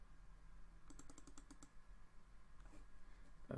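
A short burst of typing on a computer keyboard, with quick, close key clicks lasting under a second over a low room hum, followed by a few fainter clicks.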